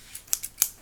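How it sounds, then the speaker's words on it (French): Scissors snip open packaging for a Kamen Rider shikishi art set in a few quick, crisp, close-up clicks spread across less than a second, with no talking. "on va commencer avec les ciseaux"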